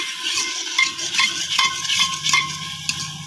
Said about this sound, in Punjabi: ਹੁਣ ਆਪਾਂ ਇਹਦੇ ਵਿੱਚ ਟਮਾਟਰ ਪਾ ਦਵਾਂਗੇ ਕਿਉਰੇ ਇਸ ਨੂੰ ਚੰਗੀ ਤਰ੍ਹਾਂ ਭੁੰਨ ਲਵਾਂਗੇ